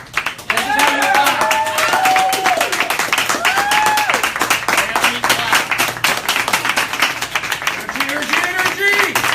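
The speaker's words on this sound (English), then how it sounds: "Come on, clap it out." Stand-up comedy club audience at The Lab clapping steadily and rhythmically throughout, loud and close, while a voice speaks over the clapping.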